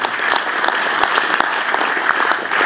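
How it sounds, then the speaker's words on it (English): A steady round of applause from an audience at a museum talk on aviation and polar engineering, dense and continuous throughout with a few sharper individual claps standing out. "Round of applause."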